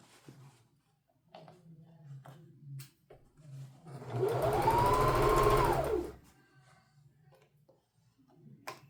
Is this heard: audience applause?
no